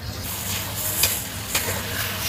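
Meat with onion and shiitake mushrooms stir-fried in a wok, its fat being rendered out: a steady close sizzle with stirring scrapes and a couple of brief sharper spikes, no voices.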